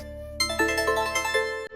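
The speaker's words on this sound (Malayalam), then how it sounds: "ഫോൺ അടിക്കുത്." A phone rings with a loud, steady melodic ringtone of repeating electronic notes that starts abruptly and cuts off just before the end.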